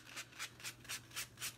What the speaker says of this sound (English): we are going to sand the acorn here, and we are just trying to soften and scuff up this paint.